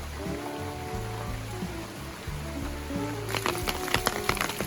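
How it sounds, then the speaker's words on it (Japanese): Rain falls steadily outdoors on a spring day, a constant soft patter that grows into sharper, denser drops on a surface toward the end, with low background sounds underneath. "今日の午後には雨も止みそうです。"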